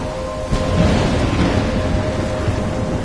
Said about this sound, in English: trapped in a storm?